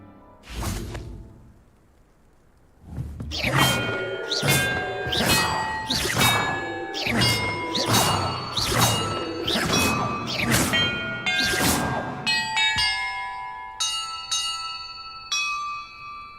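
Bells ring in Hogwarts Legacy after one opening strike: a run of about nine bright metallic clangs in a quick, even sequence, each with a ringing tail, then a shimmering chime that fades out.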